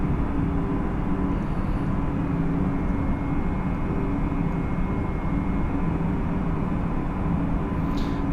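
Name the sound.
aircraft engine in Microsoft Flight Simulator 2020 video game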